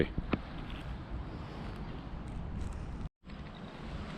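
Soft, steady wind rumble buffeting the microphone outdoors, with a faint knock near the start and a momentary dropout.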